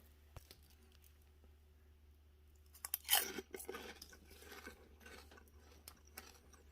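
Close-up crunching on warm, plain Lowery's microwave pork rinds: after a quiet start, one loud, sharp bite breaks out, followed by a run of crisp, crackling chews that fade unevenly, with no talking.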